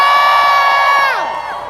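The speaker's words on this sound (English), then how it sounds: "cheer for eradicating poverty" A crowd at a Women's March rally cheers and whoops loudly, a sustained roar with high shouted voices that tapers off near the end.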